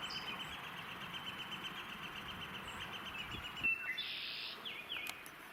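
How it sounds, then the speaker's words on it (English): Several birds call and chirp at a moderate distance on a foggy morning, with short repeated notes over a steady hiss of outdoor background, a few brighter calls standing out near the end. "There was a lot of bird activity"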